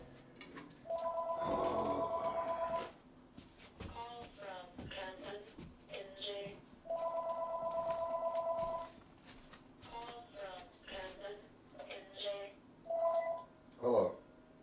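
A telephone rings indoors in two long electronic bursts with a pause between them. Someone talks in the gap and afterwards.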